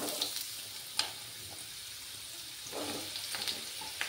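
Radishes frying in a pan, a steady soft sizzle with a few brief spikes from stirring, fairly quiet and alone.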